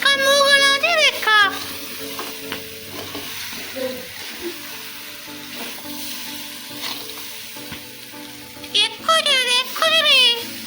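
Crab curry being stirred in a pan, with scraping and sizzling movements under a steady frying hiss; a voice chatters at the start and end.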